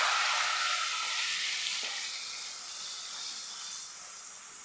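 Jackfruit seeds fry in hot oil after a sprinkle of salt water, giving a loud, continuous steamy sizzle and hiss that slowly eases off.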